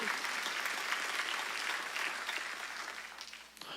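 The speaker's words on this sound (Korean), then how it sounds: "믿으면 박수로 하나님께 박수." A Korean church congregation breaks into loud, sustained applause during a sermon that holds steady, then tapers off toward the end.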